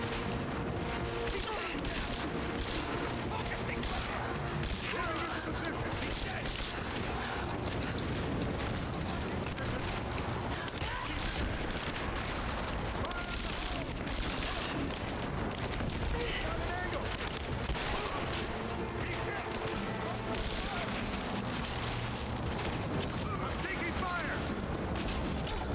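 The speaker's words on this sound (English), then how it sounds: "I can hear all these grenades" Booming grenade blasts and scattered gunfire from Rise of the Tomb Raider, dense and continuous over a busy game soundscape, with a voice talking throughout.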